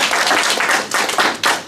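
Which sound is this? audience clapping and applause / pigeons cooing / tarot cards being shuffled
audience clapping and applause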